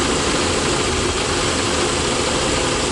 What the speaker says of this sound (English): the engine is running very, very rough